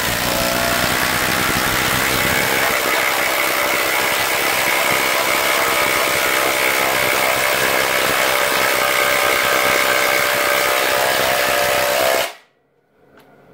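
A Ryobi high-capacity battery power tool runs at a steady, loud, continuous whine for about twelve seconds, then cuts off abruptly into near silence.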